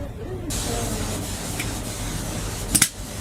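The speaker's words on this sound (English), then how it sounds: "This is the air feed from the machine." A steady pressurised air hiss pours from the air feed of a brake caliper testing machine, ending in a couple of sharp puffs, with a person talking over it.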